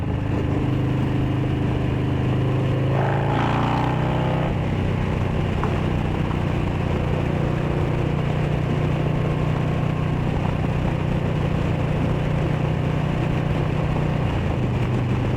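A Harley-Davidson Street Bob 114 with a Stage 2 upgrade runs with a steady, close, loud engine drone and a brief throttle rise early on, then settles into a constant uneven lope with no talking.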